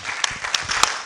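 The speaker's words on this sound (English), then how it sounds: "Please assist me to give a more round of applause to the presenter." Conference audience at a sustainable education and development research event claps for a presenter, a steady patter of hands with a few sharper individual claps standing out.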